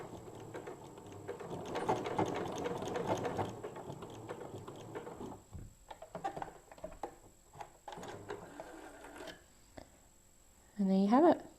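A sewing machine reverse stitches over a pin cushion wrist strap, a soft mechanical whirr running in short bursts under a speaking voice, ending with a brief louder rising whine.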